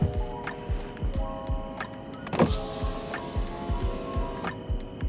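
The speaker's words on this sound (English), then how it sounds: "Roll the window down" A car's electric power window rolling down, a steady motor whine and hum lasting several seconds up close, with a few faint bumps and no talking.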